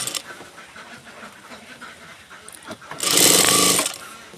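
A sewing machine stitches the round neckline of a maxi dress in one loud, steady burst lasting under a second, following quieter handling noises.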